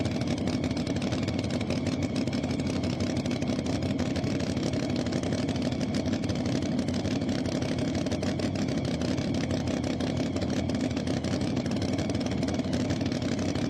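A pulling truck with a Ford Ranger body and a Sassy Racing engine roars at a truck-pull event in Farley, Iowa, a loud, unbroken, full-throated engine drone that holds steady from start to finish.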